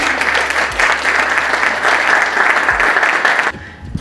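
Audience applause at a talk on plastics legislation, a dense, loud burst of clapping from a crowd that holds steady for over three seconds, then cuts off abruptly.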